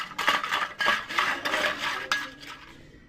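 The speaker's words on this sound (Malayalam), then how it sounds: "നമുക്ക് സ്പൂൺ വെച്ചിട്ട് ഇളക്കാൻ പോകണം." A spoon stirs a mixture of homemade jolo chips in a metal pot, making quick, repeated scraping clinks and light metallic chinks at close range with no voices.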